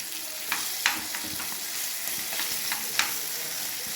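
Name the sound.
rava-coated fish frying on a tawa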